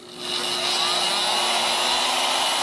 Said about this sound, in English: we tried several heat guns and finally settled on this DeWalt, which has an LCD screen